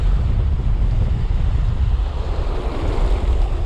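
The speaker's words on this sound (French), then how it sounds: "le vent ça souffle de ouf" Strong wind buffets the microphone on a Normandy seashore while surf rolls in beneath it, a loud, constant roar with no voices.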